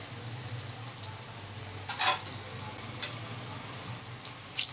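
An egg frying in a pan at home, a continuous close sizzle with a low steady hum beneath and a few sharper spitting bursts, no one talking.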